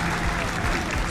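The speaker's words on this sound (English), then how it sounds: "Round of applause for you folks." A short burst of crowd applause plays as a sound effect during a livestream, a dense, steady clapping wash lasting about a second.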